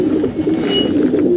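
Loft pigeons that have started laying eggs coo in a steady low warble, close and fairly loud, continuous with no speech.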